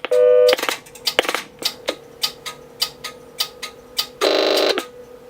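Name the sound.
telephone dialing tones, calling own number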